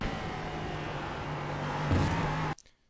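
LMP3 race car in iRacing at Zolder, its engine droning at a steady pitch and rising slightly as it accelerates before cutting off abruptly near the end.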